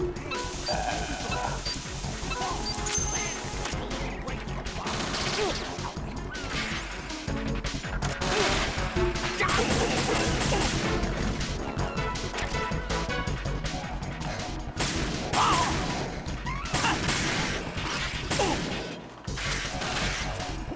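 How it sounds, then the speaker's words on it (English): Gunfire and crashing impacts ring out in Metal Gear Solid 2, a dense run of sharp shots and smashes over game noise, with a player's voice talking at times. "Keep shooting me in the ass."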